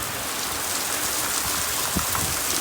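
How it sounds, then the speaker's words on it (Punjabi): Heavy rain pours steadily, a dense, even hiss of drops drumming on surfaces, loud and constant throughout with no voices. "ਮੀਂਹ ਬਹੁਤ ਪੈਣ ਲੱਗ ਪਿਆ ਫੇਰ ਦੁਬਾਰਾ"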